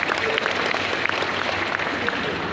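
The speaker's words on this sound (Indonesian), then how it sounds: "Tepuk tangan yang meriah kawan-kawan." Dense, steady applause fills a congress hall, a large crowd clapping continuously and loudly throughout.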